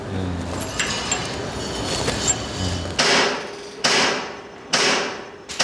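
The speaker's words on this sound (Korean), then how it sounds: "볼트를 조이는 작업이 한창인데 이곳 저곳에서 망치질을 하는 소리가 요란하다" Hammers strike steel at a high steel-structure construction site where workers are tightening bolts, several sharp, ringing metallic blows spaced about a second apart, loud and close over a busy background of site noise.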